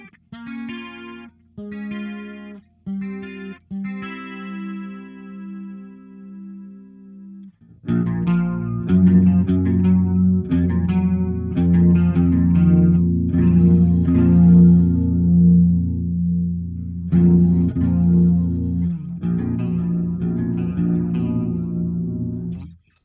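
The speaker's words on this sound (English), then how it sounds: "It's just the chorus, and it kind of widens your sound, and yeah, it sounds cool for cleans." Clean tone from an 8-string guitar through a Victory Kraken V4 amp with chorus engaged: sparse picked notes for about eight seconds, then fuller, wider strummed chords that ring steadily and loudly without talk.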